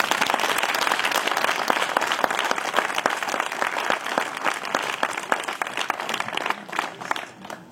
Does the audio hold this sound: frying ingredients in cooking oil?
no